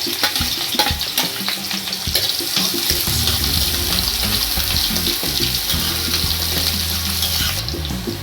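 Finely chopped medium onions hit hot refined oil in a pan, giving a loud, steady hiss and crackle of frying that runs without a break from start to finish.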